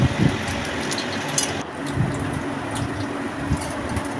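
Semolina balls for gulab jamun fry in hot oil with a constant, close sizzling hiss that fills the whole stretch, with no voices.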